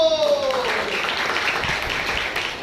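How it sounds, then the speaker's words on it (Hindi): A church congregation claps their hands during a service, a dense, continuous patter of applause at moderate volume, with a voice heard briefly at the start. "अरे ताली बजाओ"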